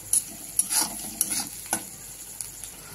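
Onions fry in a pan toward a reddish brown, with a bright steady sizzle and several quick stirring scrapes close by.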